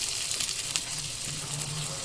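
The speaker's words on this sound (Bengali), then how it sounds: "হালকা লাল লাল করে ভেজে নেবো" Small diced potato pieces fry in hot oil for a vegetarian aloo dum, giving a steady, close sizzle and crackle of moderate loudness throughout, with no talking.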